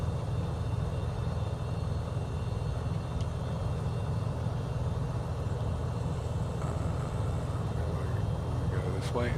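A general aviation aircraft taxiing toward the runway in Microsoft Flight Simulator 2020, a steady low engine drone and rumble throughout, with brief faint higher tones near the end.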